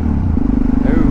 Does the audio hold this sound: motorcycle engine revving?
yes